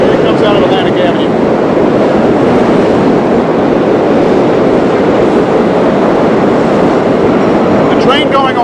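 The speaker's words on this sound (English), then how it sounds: "there's a Canarsie Line train coming up from Atlanta. Here it comes out of Atlantic Avenue." A New York subway Canarsie Line train rolls out of Atlantic Avenue station, a loud, continuous roar and rumble that holds steady throughout, with faint squeals at the start and end.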